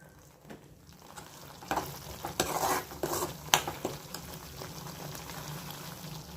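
A pot of mint rice mixture bubbles and simmers at a low, steady level, with a few clinks and stirring sounds rising above the bubbling.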